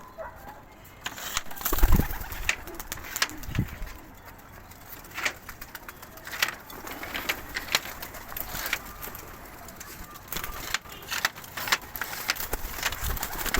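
Pigeons in a loft in Imbaba being let out, with soft bird calls and scattered fluttering and clicks over a steady outdoor background, no speech.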